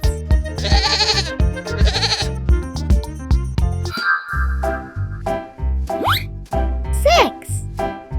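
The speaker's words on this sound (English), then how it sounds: "5 goats." Cartoonish goat bleats over bouncy children's music from a counting lesson with farm animals, several short bleats alongside a child-like voice and playful sound effects.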